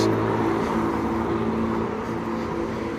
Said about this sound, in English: And a loud car